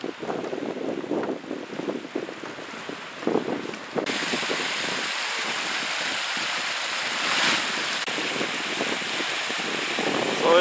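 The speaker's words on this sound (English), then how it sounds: "this pool back here is putting out all this water flowing down through here" Runoff from a hot spring pool at Firehole Lake pours down a channel in a continuous hissing rush, rising sharply and growing louder partway through, with no talk.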